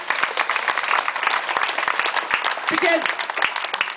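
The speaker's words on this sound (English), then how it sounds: "A round of applause, please." An audience at a commemoration for Indigenous freedom fighters claps, with distinct sharp claps in a brisk scattered rhythm, fairly close, as a voice speaks over them near the end.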